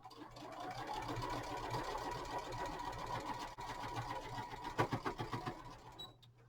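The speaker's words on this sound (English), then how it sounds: "you're going to sew 1 inch all the way around the bag" A sewing machine sews a seam around a tote bag, running close and steady with a fast needle patter, then slowing into a few distinct separate stitches near the end before stopping.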